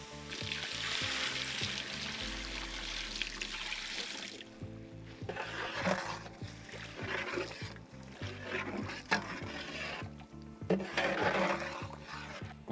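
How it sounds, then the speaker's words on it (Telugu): Water is added to a simmering Konam sea fish curry with spices, bringing a loud hissing sizzle at first, then softer bubbling and spoon scrapes against the pot with intermittent bursts of sizzling. "దీంట్లోనే మనం కొంచెం వాటర్ యాడ్ చేసి మళ్ళీ ఒక 10 నిమిషాల"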